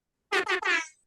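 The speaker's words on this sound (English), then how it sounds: "You're supposed to do a honk honk, but this one, you have to like hold it with two hands." A handheld squeeze honk horn is squeezed, giving three quick, close, reedy honks that run together, the last one trailing off.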